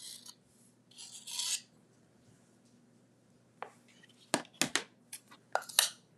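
Excess material is rubbed and scraped off a textured paper craft tag in short, quiet rasping bursts separated by pauses, close and faint.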